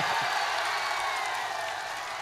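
Audience at a poetry recital clapping, a thin, fairly faint wash of applause holding steady for a couple of seconds.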